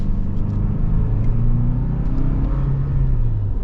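A 2025 Toyota 4Runner accelerating hard, its engine roaring loud and close in a steady rising rumble.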